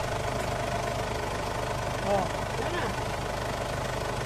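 A Ford Everest engine runs at idle with the oil filler cap off, giving a steady, even rumble with a faint knocking note, close and continuous, while a voice briefly rises over it.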